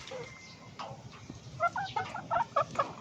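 Four-month-old chickens give short, sharp clucks and chirps in a quick uneven series, close and clear over faint background noise.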